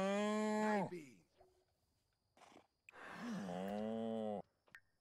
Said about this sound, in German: Ich finde die Kuh halt richtig süß.